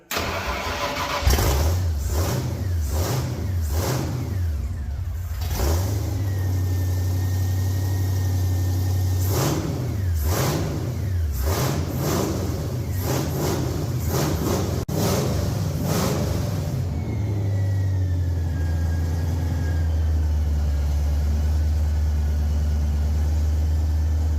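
A classic supercharged car engine with a carburetor cranks and fires, then runs with repeated loud, close revs rising and falling before settling into a steady idle, heard alone without talk.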